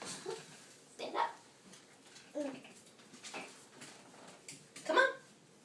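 A dog makes a few soft whimpers and short yelps at a distance, scattered across a quiet room while a baby takes first steps, with no speech over it.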